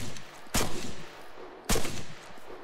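Two sharp rifle shots of 5.56 ammunition crack about a second apart in the video game ArmA 3, fired in a penetration test at full boxes, each loud and close with a short booming tail.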